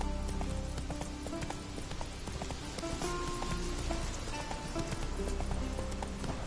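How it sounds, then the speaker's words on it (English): Rhythmic hoof clip-clop of a horse galloping in The Witcher 3 video game, quick repeated beats under soft ambient rain-like patter and faint music. "Run, Roach"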